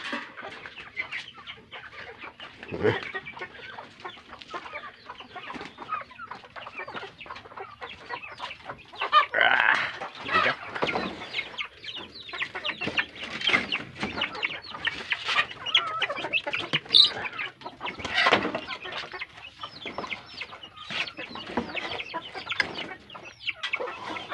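A flock of chickens at afternoon feeding time clucks and squawks continuously at close range, a busy overlapping chatter with occasional louder cries.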